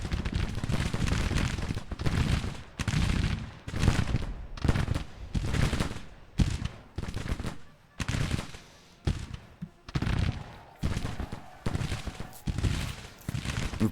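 Musket volleys in a Civil War strategy game battle, dense rolling bursts of gunfire in rapid overlapping waves with brief lulls between them, loud and continuous.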